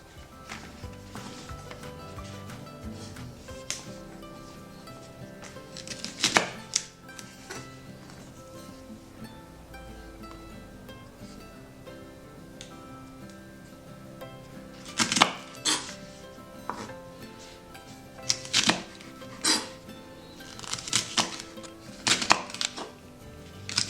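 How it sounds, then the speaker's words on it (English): Knife chopping flat green beans on a board for braised noodles, heard as scattered sharp cutting taps, clustered in quick bursts near the start and again in the second half, over faint kitchen background. "Meanwhile, let's cut the flat green beans."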